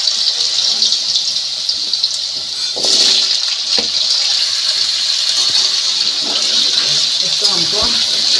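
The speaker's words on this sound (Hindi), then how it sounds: "चलिए हम अब इसमें आलू ऐड कर देते हैं।" Potatoes go into hot oil in a kadai and set off a loud, steady hiss of frying that keeps going throughout, with a brief burst of clatter partway in.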